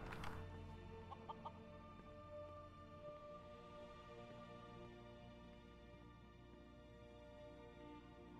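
A chicken in the video game Skyrim gives a few close, short clucks at the start, then fades into a steady ambient game hum with no talking.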